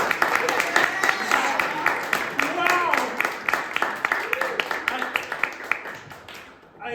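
A comedy show audience at The Annoyance claps in a sparse, uneven patter of individual hand claps, with a voice talking over it throughout until the clapping thins out near the end.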